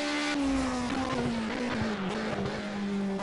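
A race car in Project CARS brakes early and hard, its engine note sliding steadily downward for several seconds as it slows, loud and continuous, with faint tyre noise underneath and no talk.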